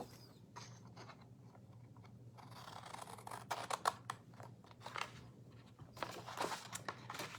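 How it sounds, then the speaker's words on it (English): Scissors snip through a cardboard coffee box with crisp, close crunching cuts in irregular bursts, separated by quiet pauses, with faint handling rustles in between; no talking. "we're gonna cut down to that fold line, but not cut that flap off"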